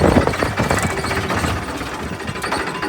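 A farm tractor engine runs close by with a steady, throbbing mid-pitched rumble and no break.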